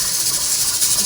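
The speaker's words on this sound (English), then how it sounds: "This one's going to vent for 10 minutes for the steam to come out." A pressure canner vents steam in a steady, loud, continuous hiss that holds without a break, close by and alone.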